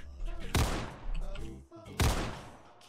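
Two loud, sharp gunshot bursts from a Desert Eagle pistol in the Roblox shooter Counter Blox, about a second and a half apart, each a broadband crack with a low thump, over steady game background noise.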